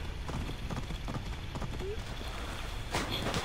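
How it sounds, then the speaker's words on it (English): Horse hooves gallop in a rapid, rhythmic clip-clop across terrain in a video game mission, close and steady over a low background wash. "Thought my horse could run right across it."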